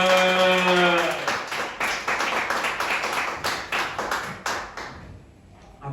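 An audience claps for a comedian at an Edinburgh Festival gig, rhythmic rapid clapping swelling into steady applause that fades near the end, with a voice briefly heard at the start.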